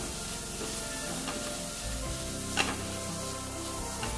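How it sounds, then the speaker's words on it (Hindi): Egg manchurian with turmeric, coriander and chilli powder being stirred and fried in a pan: steady close sizzling under repeated scraping strokes of a spoon, with one sharper clack near the end, no voices. "सभी चीज़ों को अच्छे से मिलाते हुए पका लेंगे।"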